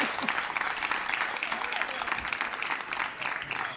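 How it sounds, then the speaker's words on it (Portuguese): Audience applauding at the Festas da Peregrina festival, a steady dense burst of clapping from a crowd that stays loud and even across the moment. "dedicar tamén un aplauso"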